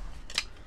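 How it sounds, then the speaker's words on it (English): Scissors snip once, a single short crisp cut while opening a box of pogs, close and alone against quiet room tone. "I probably gave you the harder scissors"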